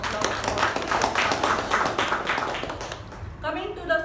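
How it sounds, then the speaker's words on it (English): Applause from an audience at a Toastmasters meeting, a steady patter of many hands that fades out near the end as a voice starts talking. "So, huge round of applause for"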